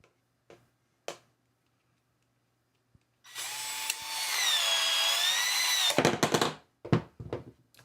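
A 1 1/4 inch schedule 40 PVC pipe is cut with a power tool on a shop table: a loud, steady whining cut runs about three seconds with a rising-falling tone, framed by sharp clicks and clatter before and after.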